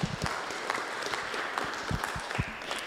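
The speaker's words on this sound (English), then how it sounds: "Why don't we give the Lord a clap offering?" A church congregation claps together in steady applause, dense and even, with a few louder individual claps standing out.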